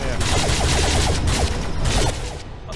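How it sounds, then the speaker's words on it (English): Rocket fire in the multiplayer VR space shooter Anshar 2: Hyperdrive: a dense, continuous run of rapid launching bursts over a loud roaring backdrop, with a faint voice now and then. "I keep firing rockets"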